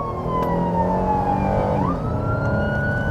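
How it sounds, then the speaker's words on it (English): A wailing ambulance siren sweeps up and down in pitch, loud and close, steady for the whole stretch with a sharp rising tone change near the middle and no talk over it. "On any given night, most nights in Kentuckiana, ambulances are on the run."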